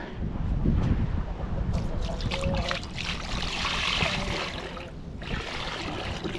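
Water poured into an Uzbek kazan, a continuous splashing trickle of moderate loudness close by, with brief pauses and no talking.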